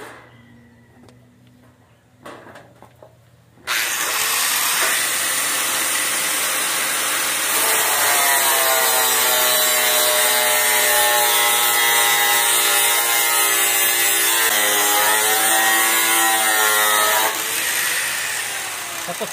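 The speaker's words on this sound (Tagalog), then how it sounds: "Kaya ganito yung proper ng pag-cutting ng grinder paggamit." Angle grinder cutting a rusty metal door, starting after a few quiet seconds with a loud, continuous high whine and grinding hiss that holds steady for most of the time before easing slightly at the end.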